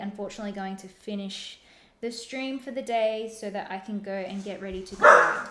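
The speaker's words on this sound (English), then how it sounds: "Sorry about the barking dog." Someone talks steadily, then a single sharp dog bark cuts in near the end, loud and close over his voice.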